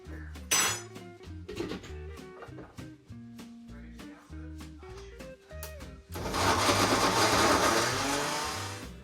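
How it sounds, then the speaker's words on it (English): Blender pureeing diced fresh mangoes, starting after a run of clinking and tapping with tonal notes, then a loud, steady whirring roar for the last few seconds. "You're gonna need a blender or food processor to make this sauce"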